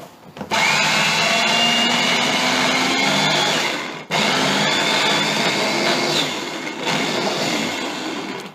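A small, low-capacity blender grinds peanuts into peanut butter, a loud steady whirring motor that cuts out briefly midway and then resumes, running alone.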